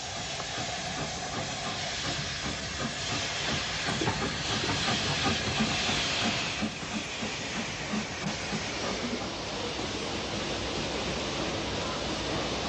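A steam locomotive, an L12 class 4-4-0 No. 424, arrives with the Portsmouth train at Sutton on the Southern, with a loud, steady rush of hiss and rumble that swells slightly midway and carries on throughout.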